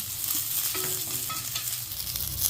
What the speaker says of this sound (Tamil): ஒரு கைப்பிடி அளவு கருவேப்பிலை போட்டு வதக்கணும்